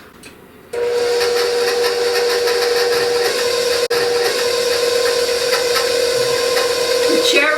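Electric mixer steadily whirring through cherry chocolate chip shortbread dough with butter, cherries and kosher salt, a loud continuous motor hum that switches on abruptly, dips for an instant midway and runs on without talk.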